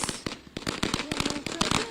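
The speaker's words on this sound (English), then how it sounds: "Nothing says freedom like fireworks, my friends." Fireworks and firecrackers for the July 3 celebration in Rochester, a dense rapid crackle of sharp pops and bangs overlapping continuously, heard from a moderate distance with no talk.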